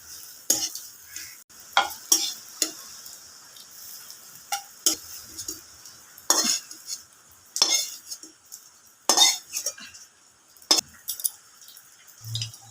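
A soybean dhoka mixture stirred in a kadai, with repeated sharp scraping strokes of the spatula against the pan at an irregular pace, close and clear over a faint sizzle.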